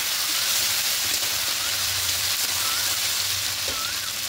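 Ginger and green chili paste fries in hot oil with cinnamon, cloves and other whole spices, giving a continuous dense sizzle and hiss at close range.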